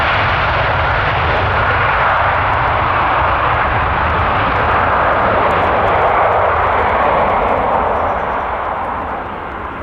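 Jet airliner engine roaring at Stansted Airport, a loud, steady broadband rumble sustained throughout and easing slightly at the end, with no talk over it.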